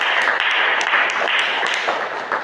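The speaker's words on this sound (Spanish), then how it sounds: "Le hacemos un aplausito." A small group applauds a speaker, a short steady patter of hand claps, close and fairly loud, lasting a couple of seconds without letup.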